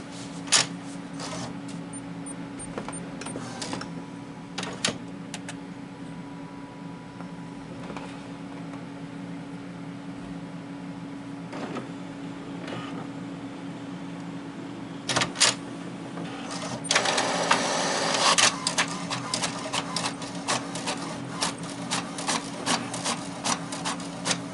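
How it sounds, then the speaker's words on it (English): An inkjet printer runs a page through after a cleaning kit has been used, giving a soft mechanical whir with repeated sharp clicks and carriage ticks, and a busier buzzing burst partway through. "So I'm going to do another print."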